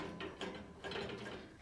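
A ratchet clicks in quick, uneven bursts while a screw is tightened during assembly of a 36-inch Blackstone griddle. The clicks are close and fairly quiet, with no talk.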